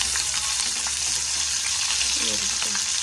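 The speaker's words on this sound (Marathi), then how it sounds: "मग मी मिरच्या तळून घेतल्या" Stuffed green chillies frying in hot oil, a loud, dense, continuous sizzle heard up close with faint stirring underneath.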